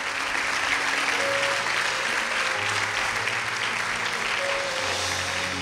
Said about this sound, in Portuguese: Isso, aplauda o Senhor.